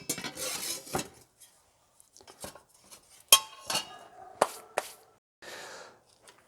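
The metal frame of a Coleman double mantle lantern is lifted off and set down, giving light clinks and scrapes, with one sharper metallic knock among quieter handling sounds at close range.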